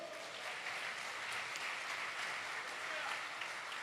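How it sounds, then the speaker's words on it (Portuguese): Church congregation applauding during a worship service, a faint, distant wash of steady clapping that runs evenly throughout. "Você pode aplaudir o Senhor?"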